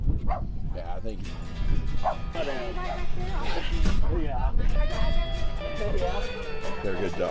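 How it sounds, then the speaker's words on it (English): Dogs bark and yip repeatedly at moderate distance, mixed with overlapping talk from adults and children throughout. "They're good dogs."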